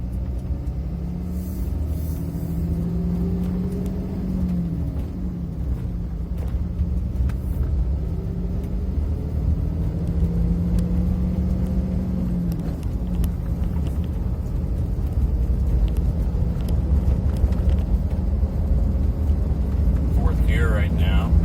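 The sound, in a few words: vehicle with G56 transmission driving, shifting up gears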